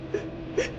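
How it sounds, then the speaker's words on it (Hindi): Two faint, brief wailing moans rise in an empty room, each a short sob-like cry with a soft echo and quiet hiss between. "और तभी एक धीमी रोने की आवाज पूरे कमरे में गूंजने लगी।"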